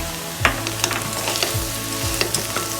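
Small karela pieces fry with homemade garam masala, a loud close sizzle punctuated by a few sharp spatula knocks and scrapes against the pan as they are stirred up and down, with no speech.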